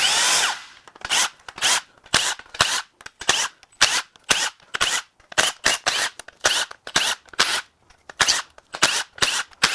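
A power tool zips out the cam retaining bolts on a Ford 1.5L three-cylinder EcoBoost engine from a 2021+ Bronco Sport/Escape, giving about sixteen short, loud bursts in a steady on-off rhythm after a first longer whir, close up with no talking.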